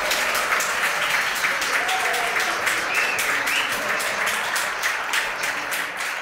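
Audience applause fills the hall at a conference talk, steady and dense throughout with a brief spoken word over it near the start.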